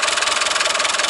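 A Citroën CX turbo diesel car engine of 95 horsepower running steadily, a loud, even, rapidly pulsing rumble heard close up without talk.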